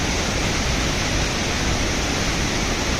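Sajla waterfall roars as a loud, steady, broadband rush of falling water that never lets up, with no voices heard over it.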